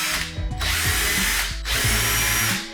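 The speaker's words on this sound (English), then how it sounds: "I'm going to be using this special bit on my impact to do this" An impact driver with a special bit whirs loudly as it loosens guitar strings, running in two sustained bursts with a short pause between them, close and alone with no talk.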